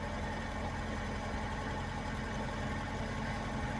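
A VAZ 2101 carburetor engine idles on petrol with a steady, even drone that holds without change throughout.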